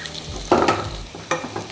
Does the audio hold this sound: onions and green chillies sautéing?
yes